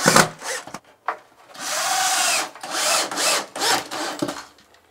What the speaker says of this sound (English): I'm just going to start in this upper corner and drive it right through everything.